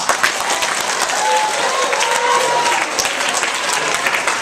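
A crowd applauds steadily for several seconds, a dense wash of clapping at moderate loudness with no pauses.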